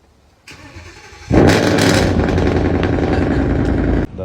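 A supercar engine fires up after a short starter whir, jumping to a loud, steady idle rumble that holds close and strong for several seconds before cutting off abruptly.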